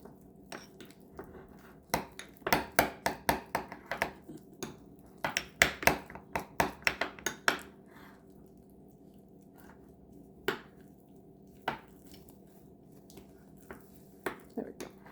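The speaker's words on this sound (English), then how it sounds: "So this time I'm actually going to break up the ice cream first." Frozen So Delicious ice cream being broken up in a container, a rapid cluster of sharp scraping, cracking knocks from about two to seven seconds, then a few isolated knocks spaced apart, close and fairly quiet.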